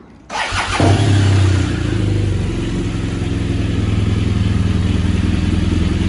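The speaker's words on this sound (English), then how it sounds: "We start the bike up to get that low beam." A motorcycle engine cranks and catches after a short pause, revs briefly, then settles into a steady, close idle in neutral.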